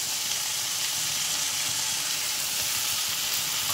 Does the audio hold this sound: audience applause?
no